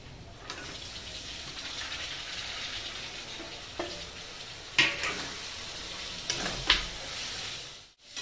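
Banana peels dropped into hot oil with sugar and whole spices, a soft steady sizzle punctuated by a few sharp crackles and stirring scrapes, fairly close and quiet, with no talk.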